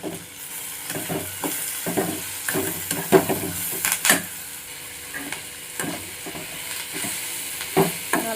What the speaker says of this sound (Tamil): நல்லா எல்லாம் பச்சை வாசனை போகிற அளவுக்கு இந்த மாதிரி நல்லா சுருளை வதக்கி எடுத்துக்கலாம்.